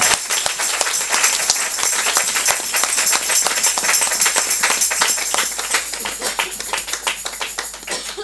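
A church congregation claps and cheers for the Lord, with crisp, rapid hand claps tapping in a dense, uneven rhythm and faint voices mixed in.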